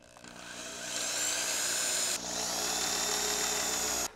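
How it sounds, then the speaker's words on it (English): A power drill bores a small hole in the top of a homemade power pack: the motor whines up, holds a steady high-pitched drone, drops briefly, then runs again before cutting off, close and alone. "I'm gonna drill a little hole on the top using this very exaggerated drill"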